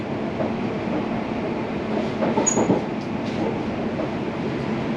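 Interior rumble of a London Overground train in motion, a steady loud roar of wheels and carriage with faint clatter and a brief high squeal, no voices.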